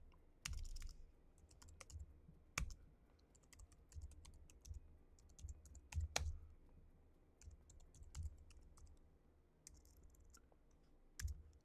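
Computer keyboard typing in Kali Linux, searching for an exploit: bursts of close, crisp key clicks with short pauses, typed alone with no talk.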